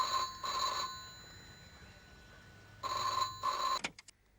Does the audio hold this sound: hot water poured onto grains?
no